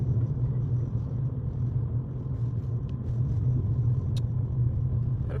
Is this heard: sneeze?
no